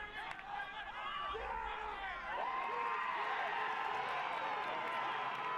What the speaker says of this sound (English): Crowd reacts.